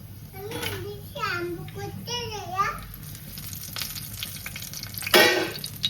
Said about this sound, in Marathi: आता तेल गरम झाले त्याच्यामध्ये मी टाकते थोडेसे तीळ आणि आपली राई